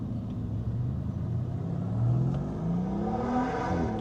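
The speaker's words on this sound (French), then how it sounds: "Accélère! Regarde, il va accélérer! Fais-nous une accélération!" Lamborghini Temerario sports car engine accelerating, a steady rumbling drone whose pitch climbs smoothly through the gears, heard from outside at moderate distance and growing slightly louder as it pulls away.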